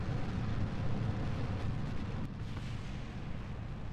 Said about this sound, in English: Sorry about how loud the rocket is